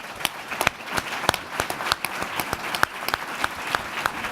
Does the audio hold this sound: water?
no